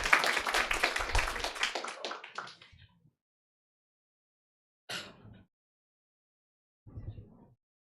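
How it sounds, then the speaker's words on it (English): At a university orientation ceremony, an audience claps for the vice director for administrative affairs, a burst of applause that fades out within three seconds, followed by two short isolated noises after silence. "You can clap now."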